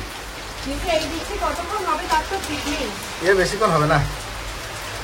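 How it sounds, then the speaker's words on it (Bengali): Steady rain falls outside a home as a constant soft hiss, with someone speaking over it. "শান্তির একটা বৃষ্টি।"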